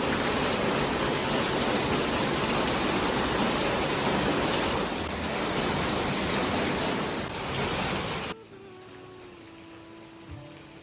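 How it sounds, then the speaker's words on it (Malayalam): Heavy rain pouring down, a loud, steady broadband hiss that runs unbroken for about eight seconds, then cuts off abruptly to a quiet room tone. "മഴ അടിപൊളിയായിട്ട് പെയ്യുന്നുണ്ടായിരുന്നു"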